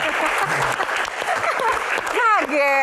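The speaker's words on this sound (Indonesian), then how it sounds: "tepuk tangan" Audience applause at a Q&A session, a loud dense burst of many hands clapping close by, with voices shouting and whooping over it toward the end.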